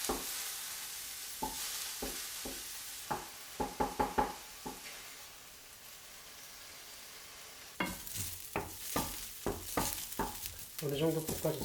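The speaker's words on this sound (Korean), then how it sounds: "옆에다 같이 볶고 있어요." Eggs stir-fried in a pan alongside other ingredients give a soft sizzle under sharp utensil knocks and scrapes, scattered at first, then busier and more continuous toward the end.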